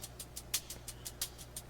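Crisp hi-hat hits in a drum beat made in Ableton tick in a steady pattern, about every fifth of a second, with a couple of louder accents over a low sustained hum.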